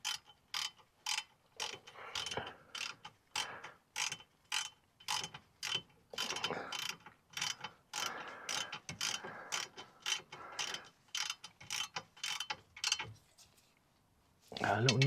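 Ratcheting wrench clicks in quick repeated bursts as bolts are snugged down on the rear brake caliper of a Mini R50/R52/R53, close and steady across the span with brief pauses between strokes.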